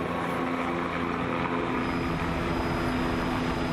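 A helicopter flies above a road race, its engine and rotor making a loud, steady droning roar with a constant low throb that fills the whole stretch, heard close and without voices.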